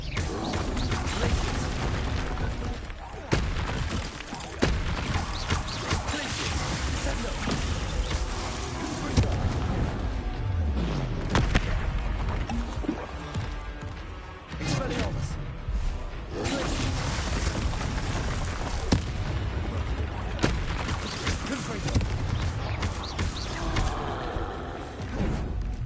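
Spells cast during combat in the Hogwarts Legacy video game: a dense, continuous stream of magical whooshes, mechanical clanks, cracks and booms layered over game music, loud and busy throughout with repeated impact bursts.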